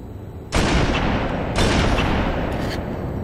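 Sniper rifle shots in Halo 3 multiplayer, two or three loud booming reports that each ring out into a long rumbling tail, close and dominant with no talk.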